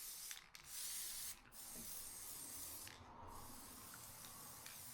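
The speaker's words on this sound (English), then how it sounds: "I'm just going to go over with a couple of coats of this acrylic lacquer." Acrylic lacquer sprayed in coats over handmade toy vehicles gives soft hissing bursts: one short burst, then a long continuous spray with brief pauses, all fairly quiet.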